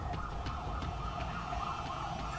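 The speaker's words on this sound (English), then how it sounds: "You hear the sirens?" A siren wails continuously over steady traffic noise in the video game Dead Space 3, fairly loud and unbroken for the whole stretch.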